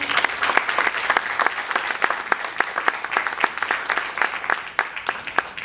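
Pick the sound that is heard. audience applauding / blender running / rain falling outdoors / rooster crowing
audience applauding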